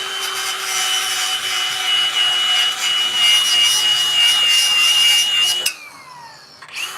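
Grinding during the installation of a Firman generator on a motorhome: a loud, steady high-pitched whine close by for several seconds, then abruptly winding down and stopping.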